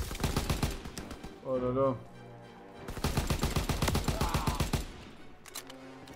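Gunfire in the World War II shooter Call of Duty WW2, rapid bursts of automatic weapon shots crackling in dense volleys, pausing while a French-speaking man exclaims, then resuming in long sustained rattling bursts.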